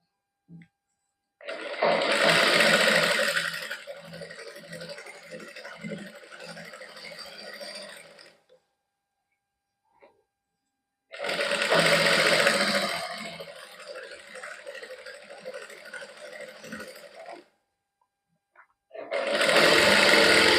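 A sewing machine stitches lining onto a salwar waistband in two long bursts of rapid mechanical rattling, close up, separated by a quiet pause, then starts again at the end.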